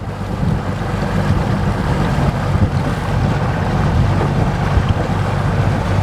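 A boat idles on a lake while its sonar maps depth contours, giving a steady, close, low engine rumble with wind and water noise throughout and no talk.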